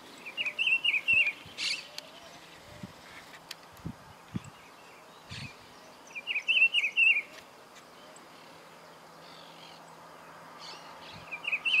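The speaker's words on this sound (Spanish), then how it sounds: "Lindos colores y canto tiene el Juan Chiviru." A Juan Chiviru bird sings in the countryside near Cayastá, Santa Fe, Argentina, giving short bright phrases in separate bursts, fairly near, over a soft insect and ambient background.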